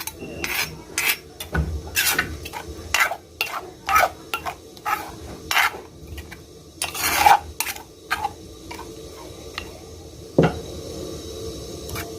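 Boiled rice-field crab and chili get pounded in a mortar with a steady series of sharp thuds, irregular but insistent, close by with some scraping between strikes.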